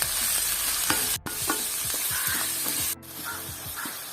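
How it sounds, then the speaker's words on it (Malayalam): Finely chopped large onions and potatoes sauté for Kerala-style masala dosa as a spoon stirs the pan, a steady close sizzle broken by scraping strokes and two brief pauses. "ഇനി ഇതെല്ലാം കൂടെ നമുക്ക് നന്നായിട്ടൊന്ന് ഇളക്കി കൊടുക്കാം."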